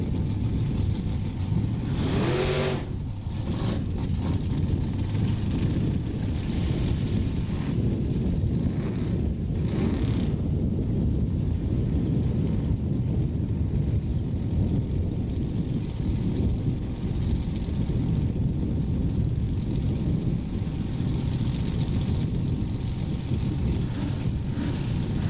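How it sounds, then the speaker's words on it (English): Two cars, an Anglia and a Camaro, drag racing down the quarter mile at Edinburg International Dragway in 1986: a steady, distant roar of engines with wind buffeting the microphone, building throughout with no talk. "both cars as they really hook it down the quarter mile"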